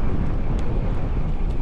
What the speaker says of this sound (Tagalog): So sobrang lakas ng hangin ngayon.